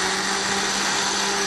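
A kitchen blender runs steadily, whirring loud and close as it mixes a drink with mint leaves, its motor drone unbroken and no voices over it.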